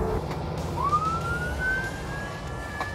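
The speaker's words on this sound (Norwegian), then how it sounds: "Kommer sirene inn her." An emergency siren wails with a rising, sweeping pitch, fairly loud and with no voices, over a low traffic rumble.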